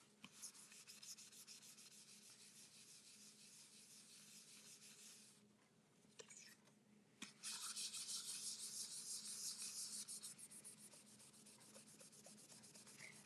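A steady dry rubbing scrapes back and forth over stamped images on paper for most of the stretch, briefly pausing midway before resuming louder and closer.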